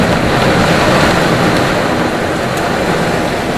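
A dense, loud roar of heavy downpour with hail, steady and unbroken, with a few faint sharp ticks within the hiss.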